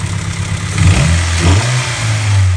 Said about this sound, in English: It's not just running rich, but it has oil burn issues